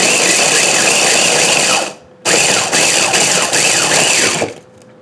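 A food processor pulses Cheetos into fine crumbs: a loud whirring burst of about two seconds, a short pause, then a longer burst of just over two seconds before it stops, with no talking.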